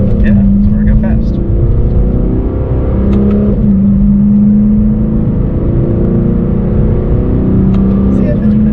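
A 2017 Lexus RC F pulls hard from the cabin, its engine drone steady and loud with rising and shifting tones, while occupants talk over the noise.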